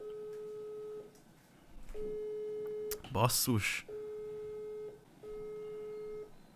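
Telephone busy or unanswered-line signal, steady beeps in long repeated tones separated by pauses. A brief exclamation from a voice cuts in midway.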